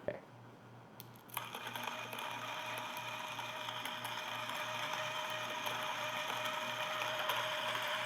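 A JT64 coffee grinder turning at its lowest speed, a steady mechanical whir with a faint regular ticking pulse running beneath it, close and continuous after a brief quieter start.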